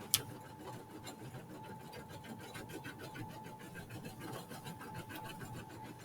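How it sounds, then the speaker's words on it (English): An embroidery machine runs steadily at close range, giving a fast, even mechanical whir with a rapid stitching patter that holds for the whole stretch, with no one talking. "Oh, my embroidery machine stopped."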